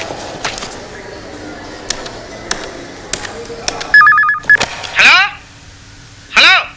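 A telephone in a 2004 Malayalam comedy film: a short burst of dialing tones, then two loud warbling ring bursts with a gap between them, over quiet room background.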